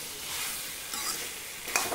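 Potato sabzi with lightly ground dried coriander and kasuri methi is stirred in a pan, giving a steady close scraping sizzle with a couple of brief louder scrapes near the end.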